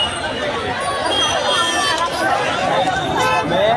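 Packed street crowd noise at a Dahi Handi festival: a loud, continuous babble of many voices and shouts, close by and without pause.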